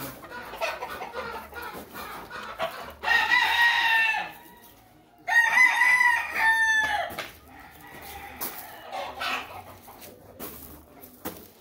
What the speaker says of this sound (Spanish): Esta es la gallina.